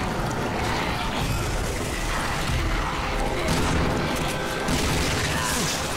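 Shotgun blasts in Resident Evil 6, with booming shots landing over a loud, dense wash of game noise and music that continues throughout.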